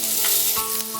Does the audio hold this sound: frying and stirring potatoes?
yes